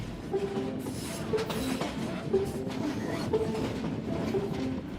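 A train in Myanmar slowly climbing toward a high mountain summit, a steady, moderately loud rumble of carriages with regular wheel clacks and a faint tonal whine.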